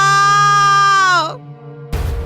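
A girl's crying wail as a horror-story effect: one loud, long, sustained tonal cry that bends downward and breaks off, followed after a short pause by a sudden burst of noise.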